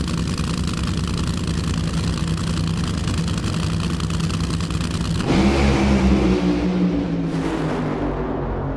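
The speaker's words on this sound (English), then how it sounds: "Pretty good drag race between the two of them" NHRA drag race cars, two running side by side, roar loudly and steadily at full power, then the sound shifts abruptly as the engines come off throttle and rumble and crackle while slowing.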